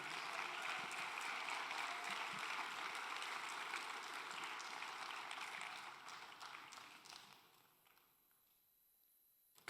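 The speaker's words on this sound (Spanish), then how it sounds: "Dele fuerte el aplauso, hermano." Church congregation applause, a sustained dense wash of clapping from many hands heard at a distance, fading away toward the end into near silence.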